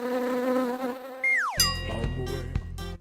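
Bees buzzing steadily and close up as they are let out of a hive, with a sharp falling whine partway through and a few brief knocks near the end.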